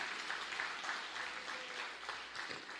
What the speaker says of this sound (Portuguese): Vamos dar um aplauso para esse ministério de louvor maravilhoso.